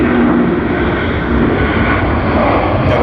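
A Garuda Indonesia airliner in retro livery at Sydney Airport produces a loud, steady engine roar that fills the whole three seconds.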